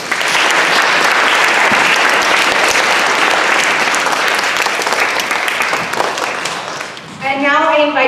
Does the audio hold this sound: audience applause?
yes